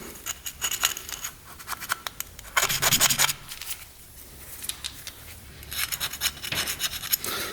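An old gasket being scraped off a 400cc dirt bike engine, heard as close, repeated rasping scrapes in uneven strokes with a louder burst near the middle, alone without talk.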